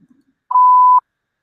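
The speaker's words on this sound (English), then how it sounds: "Please leave a message after the beep." A single steady voicemail beep sounds after the recorded greeting, a clean tone lasting about half a second, loud and isolated in silence.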